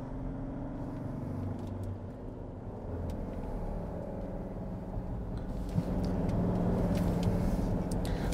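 Ford Endeavour SUV driving in normal mode, a steady low engine and road rumble heard from inside the cabin, slightly louder toward the end, with no talk.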